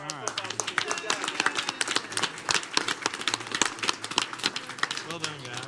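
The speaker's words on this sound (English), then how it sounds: "One more round of applause" Clapping at a city council meeting in Laurens honours the football team, a close, uneven patter of a modest group's hands with voices talking over it.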